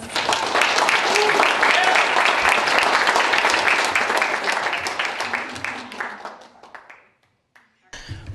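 A crowd at a talk on emotional intelligence gives a loud, dense round of applause that fades out over several seconds, followed by a brief silence and then a voice beginning to speak.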